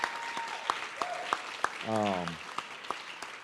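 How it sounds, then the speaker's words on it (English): An audience at a winter sports awards ceremony claps for the cheer team with sharp, evenly spaced claps, while a voice briefly speaks over them. "Let's clap it up for them one more time."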